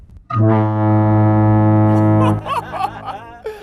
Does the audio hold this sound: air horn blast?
yes